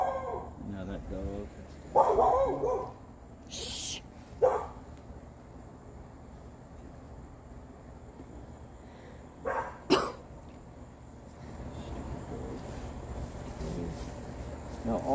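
Dog barking somewhere in a backyard garden at night, a few sharp barks scattered and fairly distant, faint over a steady outdoor hum.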